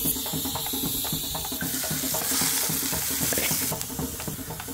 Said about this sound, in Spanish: Vamos a freír las verduras y el ajo.